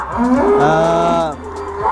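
A cow offered for Qurban sacrifice at a cattle market lets out one long, loud, close moo lasting over a second, followed by faint background noise.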